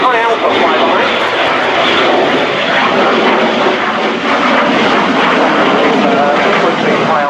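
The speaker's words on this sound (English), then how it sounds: "Floating high alpha flyby that we're seeing today." A Spanish Air Force Eurofighter EF-2000 jet makes a slow high-alpha flyby at an airshow, its loud, broad engine roar steady throughout while a commentator talks over it.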